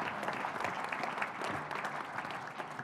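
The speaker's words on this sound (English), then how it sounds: "Give them a round of applause, please." Audience applause fills a room at a football signing day show for coaches, a steady moderate patter of clapping hands without speech.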